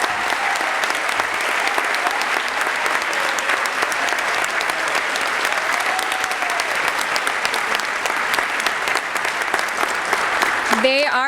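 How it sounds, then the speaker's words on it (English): A large audience at an employee recognition event gives sustained, even applause, a full steady roar of clapping with a few cheers and whistles, lasting throughout with no break. "would you please join them in one more huge round of applause for these fabulous"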